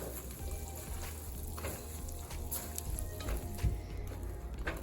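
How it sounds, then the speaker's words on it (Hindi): Marshmallows melting in butter over low heat in a pan while a spatula stirs them, a steady soft sizzle with scraping strokes close up. "तो अब हम इसमें ये डाल देंगे बटर में और इसे मेल्ट करेंगे"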